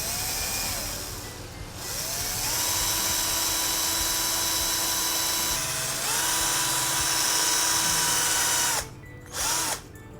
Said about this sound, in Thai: สำหรับฝาเจาะรูเราก็ใช้สว่านเนี่ยครับ